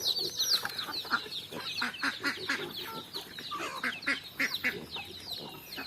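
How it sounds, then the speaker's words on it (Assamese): A flock of two-month-old chickens kept for sale clucks and chatters close by, with many overlapping calls in busy, uneven bursts and no talking. "এইখিনি চাওক, মুৰ্গী আছে,"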